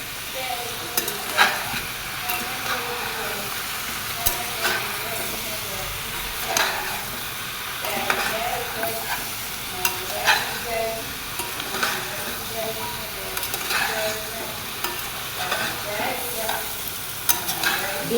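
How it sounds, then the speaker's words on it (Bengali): Papaya, potato and carrot frying in a pan, an ongoing loud sizzle broken by frequent spatula scrapes and clinks as the pieces are stirred, close by with no talking. "দিয়ে সবগুলো আমার একটু ভালো করে ভেজে নেব"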